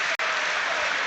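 Broadband applause from a large football crowd at Old Trafford stadium, a steady continuous roar of clapping with a brief dropout near the start.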